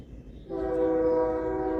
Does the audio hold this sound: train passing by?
yes